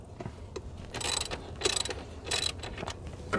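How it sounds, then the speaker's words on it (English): A 3/8 ratchet fitted with a 12 mm socket clicks in quick bursts while loosening bolts on a Mitsubishi Montero/Pajero during an EGR valve change, the pawl rattling close up in several short runs. "3/8 ratchet and 12 millimeter socket. Just going to loosen those up."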